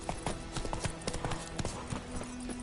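A horse's hooves clip-clop in steady rhythmic beats in the video game The Witcher 3, close and clear, with faint game sounds behind them.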